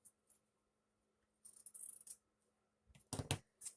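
Thin craft wire snipped off while making an angel dangle ornament: a few faint rustles, then a short, sharp close-up snip near the end, with no talk.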